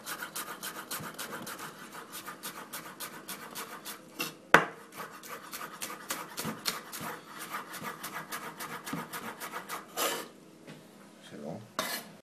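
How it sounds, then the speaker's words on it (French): A kitchen knife finely mincing a shallot on a board, a steady run of quick, crisp taps and scraping strokes with one sharper knock partway through, close up and alone. "Donc je vais ciseler mon échalote."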